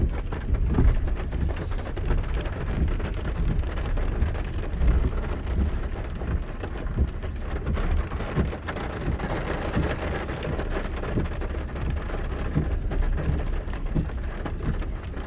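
A mountain storm delivers steady heavy rain with low rumbling thunder underneath, a dense continuous wash that swells and eases slightly over fifteen seconds, fairly loud and close, without any talking.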